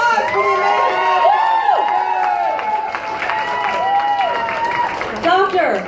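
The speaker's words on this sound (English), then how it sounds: "round of applause for the amazing" An audience at an adult circus show in a casino venue cheers, whoops and claps for a performer, loud and sustained, with an amplified voice talking over the crowd.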